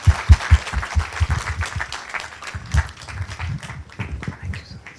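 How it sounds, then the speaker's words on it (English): An audience gives a big round of applause for a speaker at a hospital event, with sharp, loud claps up close early on that settle into a denser, more even clapping. "Dr. Chandy Matteethra, welcome with a big hand of applause"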